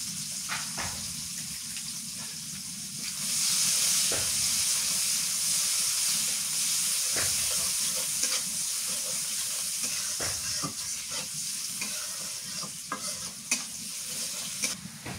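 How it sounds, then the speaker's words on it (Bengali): Chopped onion frying in hot oil gives a steady, close sizzle and hiss that swells after a few seconds, broken by occasional clicks of a spatula stirring, no talk. "এই তেলের মধ্যে এখন আমি পেঁয়াজ কুচি দিয়ে দিই।"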